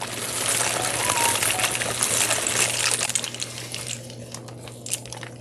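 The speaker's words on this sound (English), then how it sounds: "now we're gonna add our pasta slowly so it doesn't burn" Dry pasta poured slowly into a pot of boiling water, a busy crackling, rattling stream over a bubbling background hum that tapers off toward the end.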